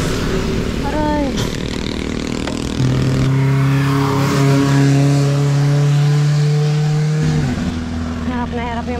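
A motor vehicle's engine revs and hums steadily near a cyclist on a road ride in Baler, with pitch rising and holding over several seconds, loud and continuous with faint voices around it.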